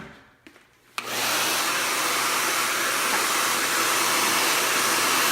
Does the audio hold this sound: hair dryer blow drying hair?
yes